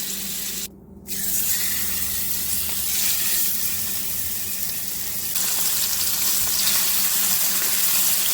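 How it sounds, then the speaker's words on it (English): Chicken sautés in olive oil and butter in a pan on a stovetop, giving a loud, steady, close sizzle that runs throughout with only a brief dip near the start. "let's move over to the stove and get this quickly sauteed"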